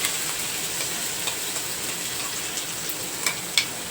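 Ridge gourd chutney sizzles in a hot tempering as it is stirred, a continuous close crackle with a few sharp ticks and clinks of the spoon near the end and no one speaking.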